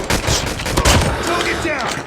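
Rapid, loud gunfire from the mobile shooter Call of Duty Mobile, with dense overlapping bursts and shots running almost without pause through the whole stretch.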